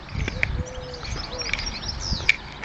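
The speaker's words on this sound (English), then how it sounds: "Can you hear the birds?" Birds chirp in a flower-filled park garden, a few short, fairly close tweets and calls scattered over soft outdoor background noise, with no one talking.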